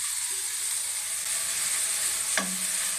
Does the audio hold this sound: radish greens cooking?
yes